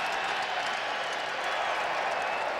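New England Patriots fans rise and cheer in a packed football stadium during a third down against the Buffalo Bills, a continuous distant roar of crowd noise and clapping.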